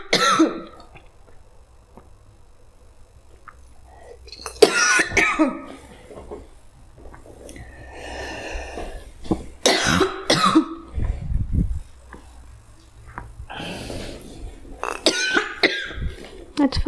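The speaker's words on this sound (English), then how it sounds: "Let's find out what's causing that cough." Several sharp coughs and throat-clearing bursts come in scattered clusters, close by, with quiet pauses between them.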